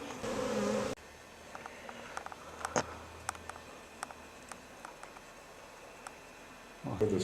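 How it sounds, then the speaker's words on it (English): Angry bees disturbed during a backyard extermination, their thin buzzing drifting in and out with repeated short, sharp passes close by, bracketed by louder bursts of rustling noise at the start and end. "A lot of angry bees"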